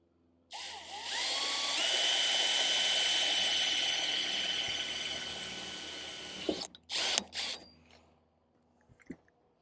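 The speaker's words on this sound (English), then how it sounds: "Go ahead and put in, I put in a 7/64 inch drill bit in there. Make sure it's a metal drill bit for metal. And we'll make our pilot holes." Power drill with a 7/64 inch metal bit boring pilot holes in the metal of a 2019 Toyota Camry for a spoiler, a sustained high whine for several seconds, then a few short bursts and clicks.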